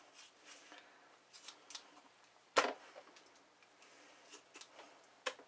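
Kitchen scissors trimming excess off a raw turkey, a few faint close snips and clicks scattered across quiet moments, with one sharper louder snip in the middle and another near the end.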